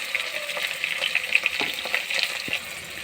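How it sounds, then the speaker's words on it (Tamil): Green chilies and garlic sautéing in a hot pan with shallots and onions for lentil rice, a steady close sizzle with a few stirring scrapes and no talking. "பச்சை மிளகாய், பூண்டு சேர்த்து வதக்கவும்"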